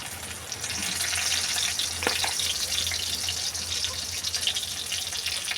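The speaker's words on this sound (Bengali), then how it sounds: "তেলটা গরম হয়ে গেছে দুটো শুকনো লঙ্কা দিয়ে দেবো" Two dried red chillies fry in hot oil in a home kitchen pan, giving a steady, loud, crackling sizzle that carries on throughout.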